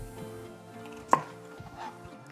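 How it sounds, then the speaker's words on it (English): A knife cuts acorn squash into inch-thick pieces on a board, giving one sharp, close chop against a faint, quiet kitchen background, with no talking. "So we're gonna cut about inch thick pieces."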